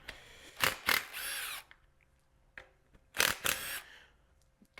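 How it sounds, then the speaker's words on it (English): Bolts come off the valve covers of a 392 IH V8 engine from a 1975 International 200 pickup, each loosened with a power tool: short whirring bursts that wind up and spin down, in two close pairs with quiet gaps between. "So let's pop these 5 bolts off."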